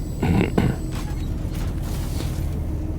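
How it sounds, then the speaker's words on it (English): A heavy ship door opens on the Drake Golem Ox in Star Citizen, a loud close mechanical creak with two low thuds at the start, then a sustained grinding rumble as the door moves, with no talking. "Open door."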